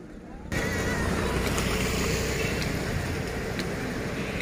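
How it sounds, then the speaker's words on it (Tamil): Full water rushes along the Lower Bhavani canal at Thoppampalayam, a dense, steady roar that swells in abruptly after a half second and continues close and loud without pause. "தண்ணி ஃபுல்லாக ஓடுதுங்க"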